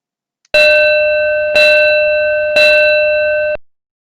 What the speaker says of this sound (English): The fire alarm will sound something like this.